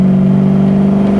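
A 1970 Ford Mustang Mach 1 fastback engine runs loud and close, holding a steady low mechanical drone with a whirring undertone through the short moment.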